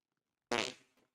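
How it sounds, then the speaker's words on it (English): A single short, loud fart bursts out after silence in a GTA 5 roleplay game, sputtering briefly before trailing off. "Did you just fart on me?"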